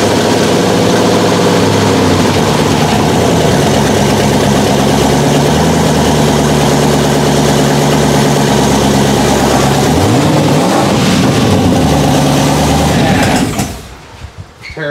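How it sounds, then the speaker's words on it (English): A twin-turbo LS V8 swapped into a Toyota Hilux idles loudly and steadily close by, a deep rumbling drone with turbo whine, before dropping away abruptly near the end. "Turbos are spinning."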